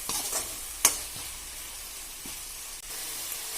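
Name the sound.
stirring fish curry with ladle in pan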